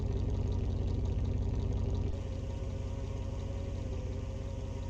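A Pagani Zonda sports car engine idles in Car Mechanic Simulator 2021, a steady, low rumbling drone that drops slightly in level partway through, heard alone without talk.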